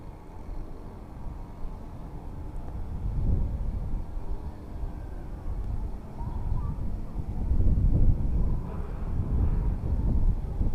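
Strong wind roars and buffets the microphone in low rumbling gusts during an SG908 Pro drone flight, rising and falling over about ten seconds, with no voices.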